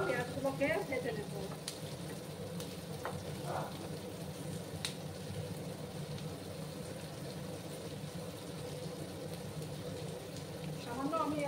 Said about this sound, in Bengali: একটু লাল লাল করে আমি পেঁয়াজগুলোকে ভেজে নেব।